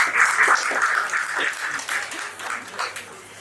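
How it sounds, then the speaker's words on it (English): Audience applause at a book review event, a burst of many hands clapping that starts strong and gradually thins out over a few seconds, moderately loud with no talk over it. "Please give yourselves a round of applause."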